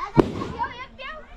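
A firecracker set off during the Waghbaras festival in Konkan gives a single sharp, loud bang at the start, followed by excited chatter from nearby people.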